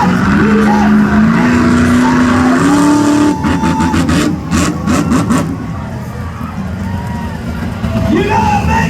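A monster truck engine roars in at an outdoor motorsport show, a loud rising drone that climbs in steps and then breaks into rough bursts and rumble, with crowd noise and an announcer's voice underneath.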